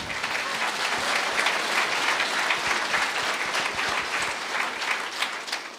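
A church congregation claps loudly and continuously, a dense, even roar of many hands holding steady from start to finish.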